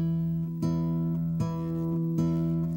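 Strummed acoustic guitar chord ringing steadily, with three sharp plucked accents on the open high string spaced evenly over it, close and clear.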